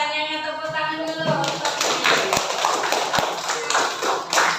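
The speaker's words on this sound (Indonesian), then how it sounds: "Tepuk tangan dulu." A class claps hands together in a steady, fairly loud wash of applause lasting several seconds, with a voice speaking briefly at the start.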